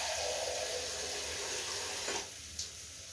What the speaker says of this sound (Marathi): आता पाणी टाकायचं.